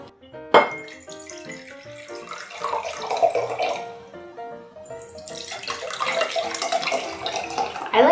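Water runs and splashes into a container for watercolor painting, a steady pouring and trickling that swells and fades across several seconds with bright dripping, close and fairly loud with no voices.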